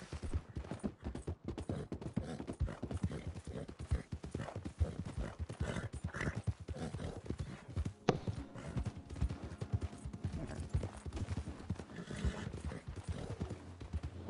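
Horse hooves in Red Dead Redemption 2, a steady rapid clip-clop of galloping close by throughout, with an occasional sharp crack in the middle.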